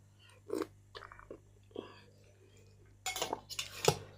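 Home-cooked meal of alur dom being eaten with cutlery: a few sparse clinks and scrapes of utensils on a plate, with soft chewing, quiet and close, and a louder burst of clatter near the end.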